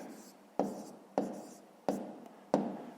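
Pen strokes on paper while working out a handwritten math answer, four sharp scratchy bursts at regular intervals, each fading slowly, close and quiet with no talking.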